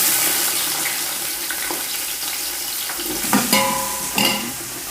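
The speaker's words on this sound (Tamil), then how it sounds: "வெங்காயம் ஆட் பண்ணிவிட்டு நல்லா வதக்கிக்கலாம்." Onions sautéing in hot oil with whole spices and green chillies for kuska biryani, a steady close sizzle with a couple of louder stirring clatters near the end.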